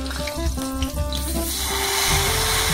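Hot oil is poured over freshly pounded chili sambal, breaking into a loud, sustained broadband sizzle and hiss that swells up about halfway through after some lighter clatter and bubbling, close by and with no voices.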